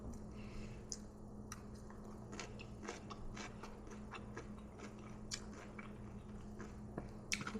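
Crispy, crunchy food being bitten and chewed close to the mic in a steady run of soft crunches and squishy bites, with a low background hum and no talking.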